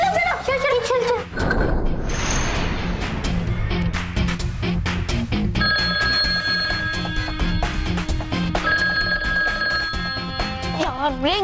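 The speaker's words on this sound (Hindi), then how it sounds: "यार रिंग हो रहा है। अब तक रिंग हो रहा है।" A telephone bell rings on and on, loud and insistent, over a busy background of music and voices.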